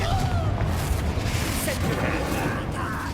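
A Confringo fire spell bursts in Hogwarts Legacy with a booming blast and rolling rumble, while a voice talks over the action.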